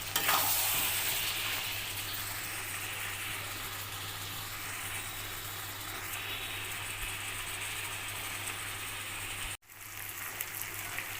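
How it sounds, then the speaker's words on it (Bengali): Mutton masala for a pumpkin-and-mutton curry being sautéed in oil in a pan: a continuous close sizzle over a low steady hum, briefly cutting out near the end before resuming. "এবার এটাকে খুব ভালো করে কষাতে হবে যতক্ষণ না তেল বেরোয়"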